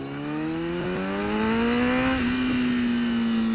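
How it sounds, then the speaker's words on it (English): A Honda CBR1000RR motorcycle accelerates hard, its engine note climbing steadily in pitch through a gear with a brief dip at the shift, loud and close with no talking. "It accelerates well, guys."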